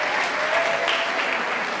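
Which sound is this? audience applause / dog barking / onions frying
audience applause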